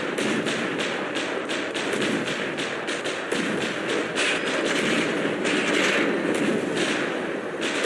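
Turret fire from a vehicle in the From the Depths game, a dense run of repeated thumping shots close and loud over a steady roar, with no pauses across the stretch.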